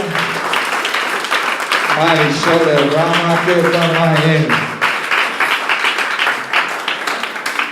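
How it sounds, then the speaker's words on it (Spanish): Church congregation applauding in thanksgiving during a Spanish-language worship service, a sustained burst of clapping mixed with voices and a sung or shouted tone in the middle, fairly loud and close. "¿Le puede dar un aplauso al Señor de agradecimiento, de victoria?"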